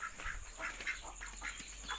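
Ducks quack repeatedly on a backyard farm, a steady run of nasal calls close by over a constant low hum, with no talking.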